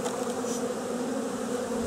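Honeybees swarm around a hive during a package installation with the queen, a dense, steady, close buzz that carries evenly throughout, with no voices.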